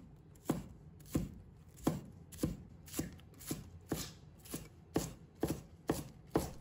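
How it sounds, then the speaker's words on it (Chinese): A knife chops scallions into small pieces on a cutting board, a steady run of about a dozen crisp, close taps at an even rhythm. "再准备小葱，把它切成葱花。"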